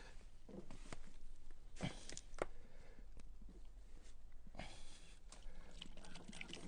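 Dirty oil and water poured out of a container during a cleanup, irregular liquid splashing and trickling in short bursts, close and fairly quiet, with no talk.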